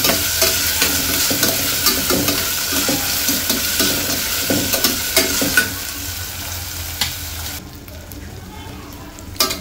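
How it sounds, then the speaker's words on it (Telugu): Chopped vegetables with turmeric being stir-fried in a pan: a dense crackling sizzle with repeated scraping stirs, close up, fading into a quieter hiss near the end. "మనం కట్ చేసుకున్న వెజిటబుల్స్ అన్నీ వేసేసుకోవాలి"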